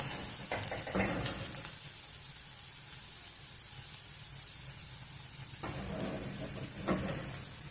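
Bitter gourd pieces tumble into a pan of softened onions, raising a steady, fairly loud frying sizzle with a few sharper crackles and spatters near the start and end.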